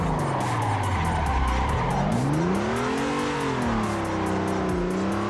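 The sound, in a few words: car drifting with tire squeal in Assetto Corsa video game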